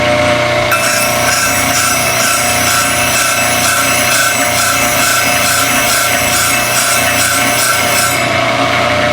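A dog grooming clipper blade is sharpened on a powered grinding machine, giving a steady loud abrasive whir with a rhythmic scraping pulse that runs the whole time.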